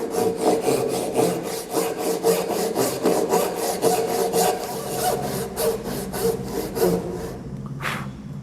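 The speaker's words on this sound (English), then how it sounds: "I'm cutting dovetails by hand" Hand saw cutting dovetails into wood for a split-top Roubo workbench, a steady rhythmic back-and-forth rasp of about twenty close, loud strokes that stops just before the end, with no talking.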